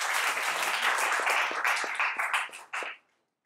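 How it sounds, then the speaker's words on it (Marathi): An indoor lecture audience gives loud, dense applause for Sheru, a dog credited with helping find bodies during a search. The clapping is sustained, thins into scattered claps near the end, and then stops abruptly. "शेरूसाठी जोरदार टाळ्या वाजल्या"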